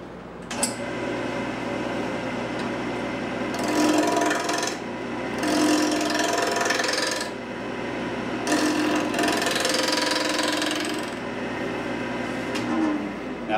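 Wood lathe cutting a turned wooden teapot, a steady near hum broken by repeated loud raspy bursts as the tool engages the spinning wood, with no voices over it.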